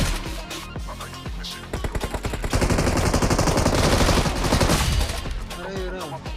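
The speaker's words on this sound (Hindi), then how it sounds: "भाई जस्ट इनको मारा ही था और मार के फिर रिवाइव भी दिया था अक्षय को" Gunfire during a BGMI mobile game fight: several single shots at first, then a long, loud, rapid automatic burst close by, ending in a few scattered shots, with talk faint beneath.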